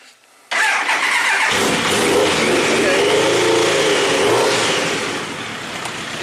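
A 1999 Triumph Trophy 1200 motorcycle engine cranks and catches after a brief quiet moment, then settles into a loud, close, steady idle that tapers slightly toward the end.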